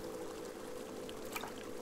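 A triceratops drinks water in the dinosaur survival game Saurian, giving a steady pouring, lapping water sound that runs evenly throughout, close and moderately loud.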